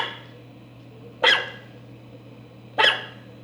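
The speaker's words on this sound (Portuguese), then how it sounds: "o latido de um cachorro é um som curto" A dog gives two short, loud barks about a second and a half apart, each one isolated against a quiet background with a low steady hum.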